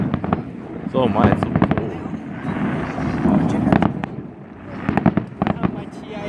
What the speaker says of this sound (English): was a firework.